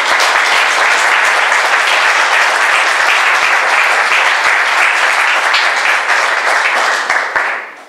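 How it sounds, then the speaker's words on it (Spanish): Loud, dense applause from an audience at an award ceremony, a continuous roar of many clapping hands holding steady for several seconds and easing slightly at the end. "Así que el aplauso para ella también."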